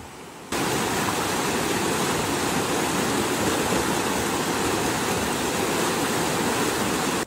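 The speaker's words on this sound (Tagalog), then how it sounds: "Dadaan ka dito sa munting bamboo bridge. Pakinggan mo yung ilog ha." A river flows steadily beside a small bamboo bridge at a farm resort, a loud, continuous rushing wash of water that starts abruptly after a brief quieter moment and holds constant throughout.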